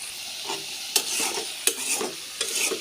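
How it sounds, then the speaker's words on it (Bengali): Shrimp curry with sweet bottle gourd greens cooks in a pan, a soft continuous sizzle broken by several sharp scrapes and clinks of a stirring spoon, close and clear with no talk. "মিষ্টি লাউয়ের শাক দিয়ে চিংড়ি মাছ দিয়ে ঝোল করতেছে দেখুন"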